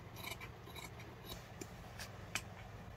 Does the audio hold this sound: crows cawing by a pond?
no